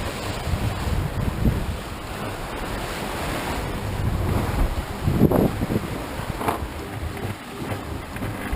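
Steady wind of about 15 knots roaring over open Atlantic water on a sailboat under spinnaker near Madeira, waves rushing past, a constant broad whoosh and buffeting gusts, no voices.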